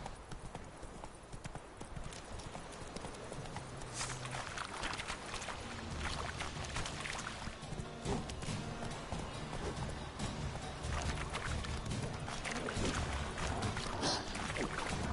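Hooves of a horse in Witcher 3 clip-clop in a steady, rapid galloping rhythm throughout, loud and close, with game ambience and occasional thumps behind them.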